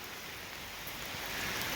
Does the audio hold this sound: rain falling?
yes